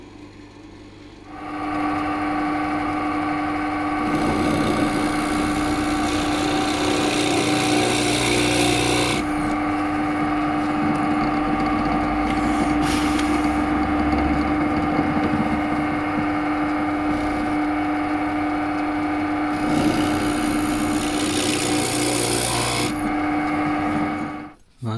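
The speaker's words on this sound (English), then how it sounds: "This countersink bit's a trend one. You see how neat hole it makes?" A drill fitted with a Trend countersink bit bores into a wooden bed rail, producing a close, loud, sustained whirring grind with rising bursts of rasping as the bit cuts, then winding down at the end.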